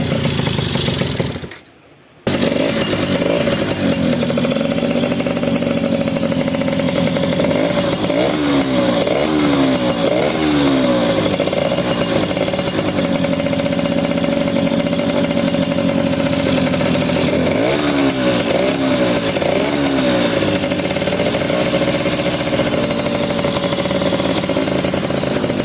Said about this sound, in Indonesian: Kita nyalakan mesin ya, ini hidup mesinnya.